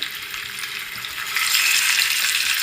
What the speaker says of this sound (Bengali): তেলটা গরমও হয়ে গেছে। এবার আমি মাছগুলোকে ছেড়ে দিচ্ছি।